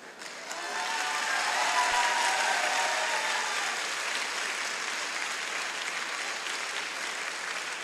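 Sustained applause from a seminar audience in Lucknow, a dense, steady wash of clapping that swells in within the first second and holds loud and even to the end, with no voices over it.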